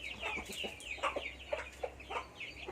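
Chickens cluck outdoors on a rural farm, a series of short, bright calls scattered across a few seconds. They are moderately faint over a low background hum, with no talking.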